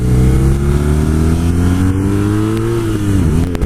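BMW R nineT Cafe Racer motorcycle engine under way, a loud close continuous drone that holds steady and rises slightly in pitch before dipping near the end, with no talking over it.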